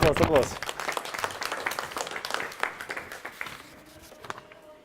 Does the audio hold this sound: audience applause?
yes